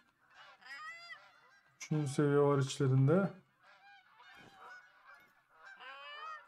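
Ducks calling overhead in The Hunter: Call of the Wild, with honking flock calls throughout and one loud, nearby burst of strong harsh quacks in the middle, while someone speaks briefly over the calls.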